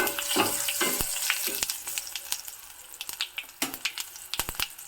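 A tempering of turmeric, curry leaves and chopped green chilli sizzles in hot oil, a crackling close-up fry with sharp pops and spoon clinks that thin out toward the end, with no talking.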